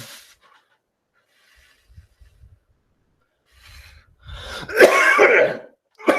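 Heavy, harsh coughing after smoking: near silence with faint rustling, then a burst of loud, raspy, hacking coughs close to the mic that tails off, followed by a short final cough.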